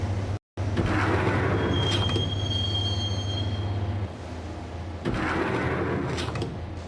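Subway train from the Max Payne video game riding along the tracks, a loud continuous rumble with a high metallic wheel squeal and brief whines, a short dropout near the start.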